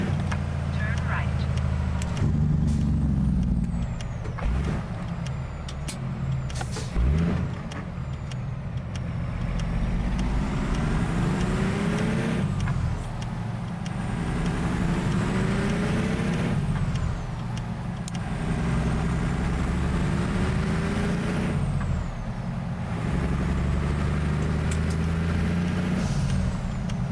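Interior drone of a Cummins ISX CM870 diesel engine in a Kenworth truck in American Truck Simulator, rising and falling through gear changes with a steady low rumble, a voice talking over it at times.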